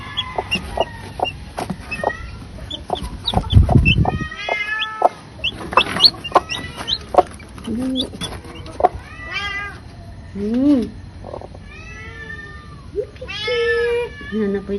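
A hen clucks near her chicks, with repeated soft clucks and high chirping peeps scattered across the scene, plus a cat meowing at moments; a person speaks briefly, and a short low thump sounds in the middle.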